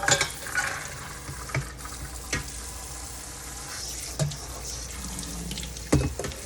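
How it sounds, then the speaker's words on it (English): Pinto beans rinsed under a running kitchen tap, with a steady hiss of water, occasional clanks and splashes as the beans and pan are moved, fairly close and with no talking. "So I'm going to rinse those pintos off."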